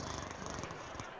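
An anime character snores through a power nap before a Dragon Ball tournament final round fight, a steady raspy purring rumble held across the whole short stretch with no pause.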